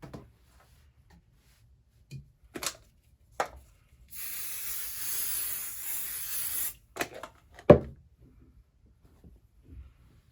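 A steady spray of fabric adhesive hisses from an aerosol can for a few seconds, bracketed by a handful of short clicks and taps from handling the can.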